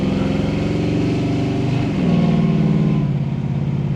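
A 1950 Lincoln Sports Sedan engine idles and runs steadily with a low, even chugging rumble that rises slightly partway through, close and loud with no talking.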